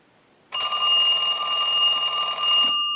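A Western Electric 2554 telephone's bell rings when triggered by a test analyzer, a loud close metallic trill that starts abruptly and runs continuously for about two seconds before cutting off.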